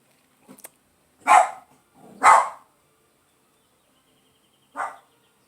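A dog barks at someone at the door indoors: a few sharp, close barks with pauses between, one short yip early and a last bark after a gap.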